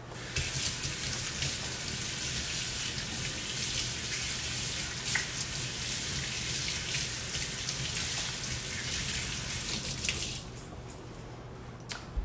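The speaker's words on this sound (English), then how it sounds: "In the meantime, I'm gonna rinse my hands off." Tap water runs steadily into a kitchen sink while hands are rinsed, a constant soft hiss and splash at moderate distance that thins out near the end, with no talk.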